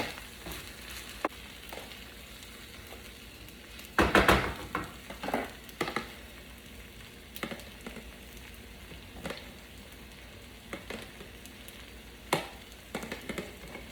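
Shrimp sizzles steadily in a hot pan for a pineapple shrimp bowl, a continuous frying hiss with a few sharper clattering bursts as the shrimp goes back in and is stirred.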